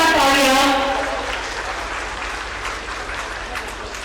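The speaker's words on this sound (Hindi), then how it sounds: "जोरदार तालियां" Crowd applause at an outdoor foundation stone ceremony for bridge and road projects, a dense burst of clapping that swells at first under a fading voice, then carries on more softly.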